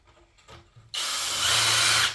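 A power drill unscrewing screws during a French farmhouse kitchen renovation starts after soft handling noises and runs as a loud, continuous whir that rises slightly in pitch, close by and alone.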